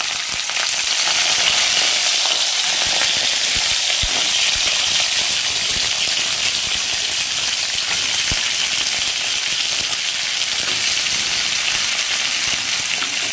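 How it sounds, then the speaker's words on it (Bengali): Flat beans frying in oil with black cumin (kalo jeere) for a vegetarian Bengali shim jhal, a steady close sizzle with crackles and small pops throughout, no talking. "এবার আমি আস্তে আস্তে করে সিমগুলোকে তেলের মধ্যে ছেড়ে দেবো।"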